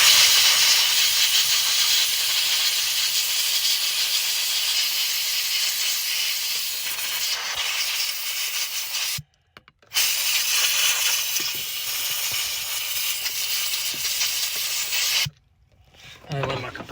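A loud, steady hiss of air from a compressor in the setting of a 1981 Chevette start-up attempt, running continuously and broken by two brief silent gaps.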